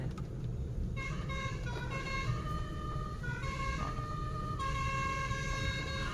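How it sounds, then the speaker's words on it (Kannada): A car horn sounds in repeated tonal blasts over steady road and engine noise on a road trip to Supa Dam, Karnataka, fairly close and sustained. "ಹಾರ್ನು ಮಸ್ತ್ ಐತ್ರಿ"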